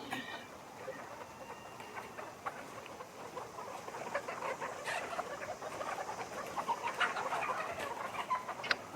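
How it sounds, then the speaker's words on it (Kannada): Chickens in a poultry farm shed cluck and chirp in a dense, continuous chorus that grows busier over time, with a faint voice in the background. "ಕೋಳಿಗಳೆಲ್ಲ ಇದೆ"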